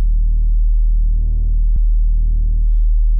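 A sine wave run through Ableton's distortion effect with its ceiling pulled down gives a loud, continuous buzzy tone whose overtones swell and shift, with one brief click partway through.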